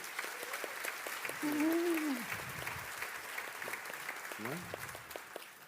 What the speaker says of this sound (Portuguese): uma salva de palmas para o Arthur Japan